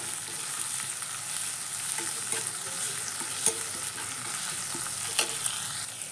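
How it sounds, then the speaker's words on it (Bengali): Ginger-garlic paste stirred into onions frying in a pan, a continuous loud hiss of hot oil with scraping spoon strokes and a few sharper clicks on top, close up, no voices. "পেঁয়াজটা একটু কষানো হয়ে গিয়েছে, এর মধ্যে দিয়ে দেব আদা আর রসুনের পেস্ট, দিয়ে আবার একটু নেড়ে নেব।"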